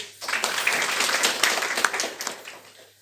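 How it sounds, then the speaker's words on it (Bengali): An audience claps together at a government gathering in Sunamganj district, steady dense applause lasting about three seconds before tapering off, no voices over it. "যাক, খুব ভালো লাগলো, এটা আমরা করতালি দিই।"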